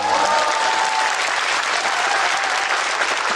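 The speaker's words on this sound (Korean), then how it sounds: "의원님 들어가라고 박수 치는 거야 지금." A studio audience claps steadily and densely for a lawmaker guest on a Korean talk show, a full, even burst of applause with no voices heard over it.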